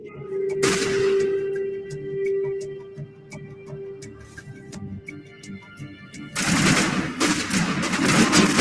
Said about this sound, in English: Somebody's shooting me in the face and I don't like it.